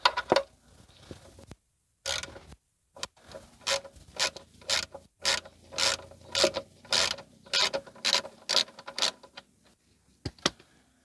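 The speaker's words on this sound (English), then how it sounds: "started to undo the drain plug" Ratchet wrench loosening the oil drain plug on a C4 Corvette with an L98 engine, clicking in a series of short bursts of rapid pawl ticks separated by pauses, close and clear.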